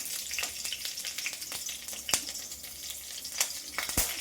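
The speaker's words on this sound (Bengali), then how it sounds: "এখানে আমি শুধু আমাদেরটা রসুন ফোড়ন দিয়ে ভেজে নেবো শাকটা" Red amaranth greens frying in a pan with a garlic tempering, a steady close sizzle with occasional crackles and stirring scrapes throughout, no voices.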